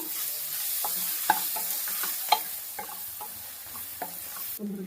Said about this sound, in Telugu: పచ్చిమిర్చి పేస్ట్ మంచిగా ఫ్రై అవుతుందండి ఆయిల్లో